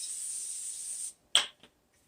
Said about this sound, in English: Spray it down with a little bit of cooking spray